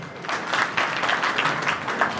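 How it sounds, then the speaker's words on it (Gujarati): An audience at a community get-together in Chotila claps together in a burst of dense, sustained applause that stays fairly even throughout. "જોરદાર તાળીઓ."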